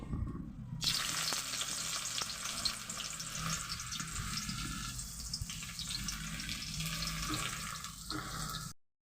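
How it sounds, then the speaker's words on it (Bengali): Chopped onions fry in hot oil with cardamom, cloves and cinnamon, giving a dense, even hiss that holds steady for several seconds before cutting off abruptly. "এবার পেঁয়াজটাকে আমি ভালোভাবে ভেজে নেব"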